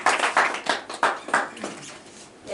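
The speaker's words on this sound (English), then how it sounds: "Clap hands for Jesus." A congregation claps hands at a church service, a run of irregular claps close by that fade out over a couple of seconds.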